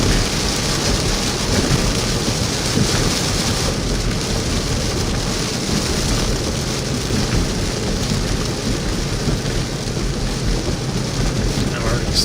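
Heavy rain pounds steadily through a live thunderstorm encountered while storm chasing under a shelf cloud, with a rumble of thunder in the dense, constant roar; faint voices may sit beneath the downpour.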